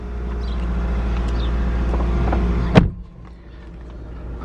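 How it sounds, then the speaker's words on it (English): A Mazda 3 with a 2.2 diesel engine rated at 150 PS and a manual gearbox fires up with a loud, deep rumble, then a sharp knock as the revs drop to a quieter, steady idle. "Going to start the car up."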